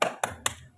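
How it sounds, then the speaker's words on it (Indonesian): A classroom of pupils claps a spirit-clap rhythm, three sharp group claps about a quarter second apart, each ringing briefly in the room. "tepuk semangat semua yuk"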